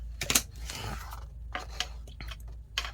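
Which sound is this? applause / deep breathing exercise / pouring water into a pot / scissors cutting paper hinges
scissors cutting paper hinges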